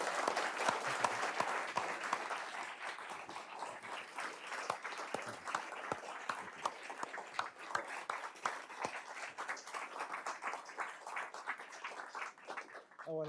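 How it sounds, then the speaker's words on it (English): A room full of people applauds a former diplomat at a public conversation with the Secretary of State, steady dense clapping holding for the full stretch without talk over it. "if everyone would, a round of applause for Richard Haas."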